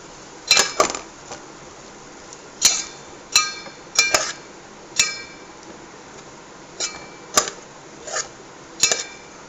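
A spoon stirs turmeric into banana and tomato curry in a metal pan, making a series of sharp clinks and scrapes spaced irregularly across the stretch, close and moderately loud with no talking.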